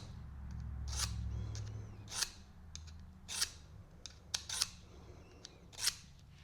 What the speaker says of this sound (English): we're just gonna scrape this down and away from us along this beveled edge